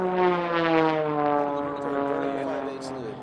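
An aerobatic propeller airplane performing at a national competition drones steadily overhead, its engine tone bending in pitch as it maneuvers, loud and continuous throughout.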